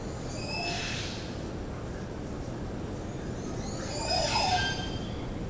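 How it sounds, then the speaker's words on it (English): Two liquid, gurgling calls of a Montezuma oropendola in Costa Rica, with a mechanical, bubbling quality, sound over a steady noisy background, one early and one louder near the end. "which is quite a mechanical type of a noise, is a bird called a Montezuma"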